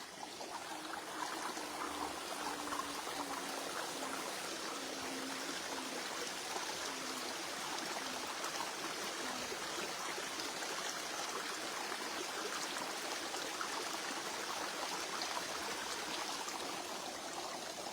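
Water flows in a creek beside a camp site, a steady close trickle and babble that runs unbroken throughout, faint and without voices.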